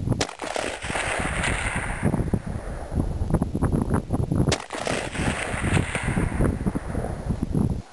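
A .30-06 rifle (Howa 1500) loaded with 180-grain Sierra bullets fires at a steel target 400 yards away: two sharp, loud shots ring out against heavy, steady wind buffeting the microphone.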